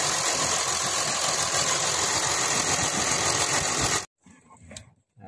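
2012 Kia Mohave engine idling after a tensioner replacement, a steady even mechanical hum heard close, which cuts off abruptly near the end, leaving faint small noises.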